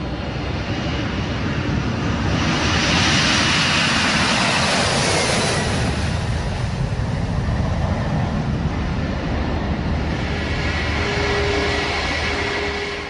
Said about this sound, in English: it's the turn of an American Airlines Boeing 767 departure for London, a journey that will take over 6 hours